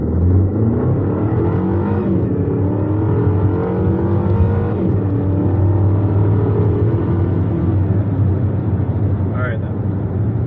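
BMW X1 SUV accelerating hard in Sport Plus driving mode, its loud steady engine drone rising through the run from inside the cabin, continuous for the whole stretch, with people talking over it.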